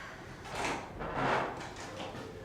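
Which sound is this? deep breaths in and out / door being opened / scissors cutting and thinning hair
door being opened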